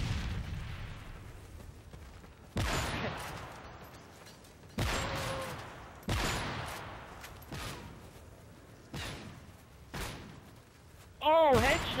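Sniper rifle fire from the Modern Warfare 3 video game comes as about six sharp, widely spaced booming shots, each followed by a short decay, while players talk between the shots.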